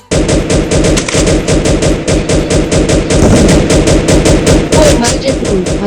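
Loud, rapid gunfire from the video game Free Fire, in a shotgun-only match, keeps firing with repeated close shots in a rhythmic, almost unbroken barrage, with a voice faintly underneath.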